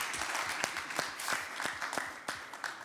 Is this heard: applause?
yes